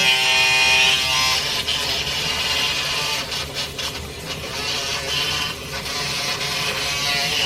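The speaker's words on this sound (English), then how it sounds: "I brush them all the way around" A toothbrush scrubbing clear plastic aligners up close, a continuous loud bristly buzz and rasp with uneven strokes and no talk.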